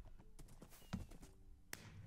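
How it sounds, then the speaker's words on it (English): Horse hooves clip-clop in quick, uneven steps as a horse is ridden around the spawn area in the Minecraft server Mineplex, faint and close, with no talking. "We ride a horse around spawn."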